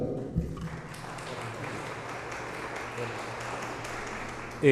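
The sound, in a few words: audience applause welcoming speaker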